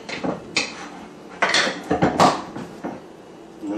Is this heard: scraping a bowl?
yes